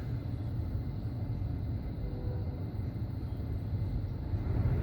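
A 2014 Ford Expedition's blower fan runs at its second speed, giving a low, steady airy rumble that holds level from start to finish, with no voices.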